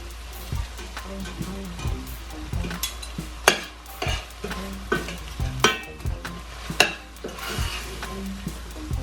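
Onion frying with chicken thighs in a pan, a low sizzle under repeated sharp clacks and scrapes of a utensil stirring, close by, with a voice faintly present.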